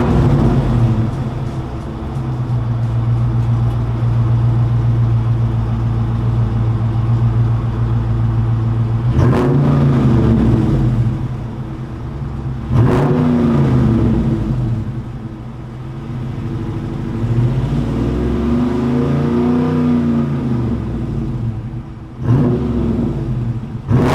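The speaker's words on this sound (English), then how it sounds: "you have your beautiful, glorious sounding exhaust. I'll go ahead and let you guys take a listen to that" Deep V8 burble from a 2019 Dodge Charger Scat Pack, a steady loud idle broken by several sharp throttle blips that swell and fall away, with no talking.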